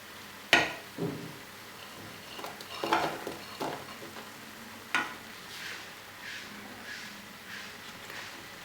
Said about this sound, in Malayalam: അരപ്പ് തിളച്ചിട്ടുണ്ട്. നമുക്ക് പനീറും ബ്രൊക്കോളിയും ചേർക്കാം.